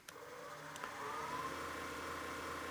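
A wood lathe turning a bowl whirs steadily nearby, its motor tone rising slightly as the speed increases and then holding a constant hum.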